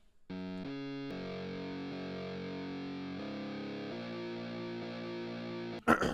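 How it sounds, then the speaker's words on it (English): Sustained chords on an electric piano run through heavy distortion, thick and buzzing, shifting through several held changes before a loud burst at the end. "You're looking for your amps and your pedals to create that distortion."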